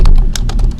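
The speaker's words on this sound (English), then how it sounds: "So if you go type" Close, rapid keystrokes on a computer keyboard form an uneven string of about seven clicks over a steady low hum.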